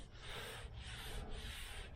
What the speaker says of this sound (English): You can rub your hand on it